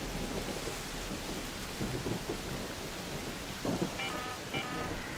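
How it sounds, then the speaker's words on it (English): Thunder rumbles amid steady rain during an electromagnetic storm over Dam in the ARK Raiders extraction shooter game, a sustained storm bed with a few heavier rolls and brief higher tones near the end. "an electromagnetic storm is currently raging over Dam"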